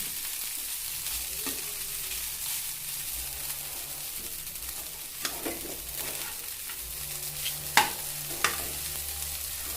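Ragi vermicelli stirred in a pan, with a soft continuous sizzle and scraping strokes, plus a few sharper clinks of the utensil against the pan near the end.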